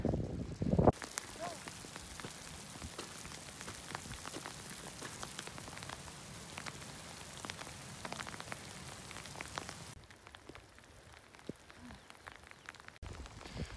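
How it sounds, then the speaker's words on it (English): Hail pelting down hard and steadily on a mountain hiking trail, a dense clatter of many small impacts with wind buffeting the microphone, which eases off briefly toward the end. "We are getting pelted with hail right now."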